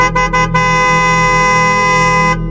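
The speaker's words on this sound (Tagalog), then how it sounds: "bumusina ulit siya sa ikatlong beses" A loud, sustained vehicle horn blares steadily for over two seconds after a few short clipped toots at the start.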